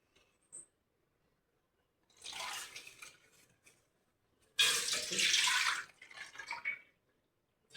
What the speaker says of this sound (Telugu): 5 గ్లాసులు వాటర్ వేసుకుందాం.